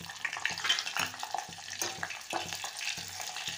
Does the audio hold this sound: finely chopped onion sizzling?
yes